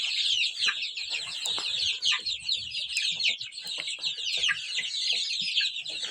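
A hen clucks among month-old chicks moved to a roomy pen, their dense, constant high peeping filling the space with occasional low clucks underneath, close and continuous.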